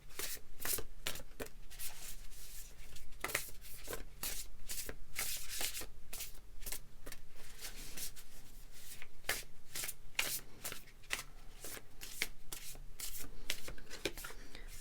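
Tarot cards being shuffled by hand during a pick-a-card reading: a steady run of quick, crisp riffling and flicking bursts, close and clear, repeating through the whole stretch with no talk.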